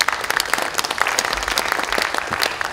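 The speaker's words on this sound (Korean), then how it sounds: "박수 한번 보내주시죠." A party assembly audience breaks into applause, a dense, continuous patter of many hands clapping at close to moderate distance, steady throughout.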